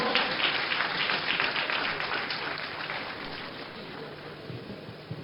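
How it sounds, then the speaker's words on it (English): Audience at a 60th Independence Day anniversary ceremony breaking into applause, a dense, loud burst of clapping at the start that gradually thins and softens toward the end. "Round of applause."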